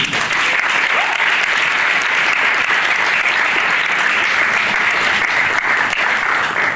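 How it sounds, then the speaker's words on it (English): A film festival audience gives a sustained, dense round of applause, steady and loud from start to finish with no talk over it. "give another very quick round of applause to everybody who submitted something to the film festival"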